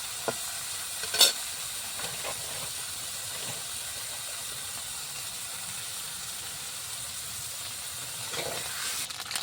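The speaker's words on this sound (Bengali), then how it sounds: "সুন্দরভাবে ভাজা হয়ে গেছে মাছগুলো" Small fish sizzle in hot oil with a steady, even hiss, broken by a few faint clinks and stirring sounds.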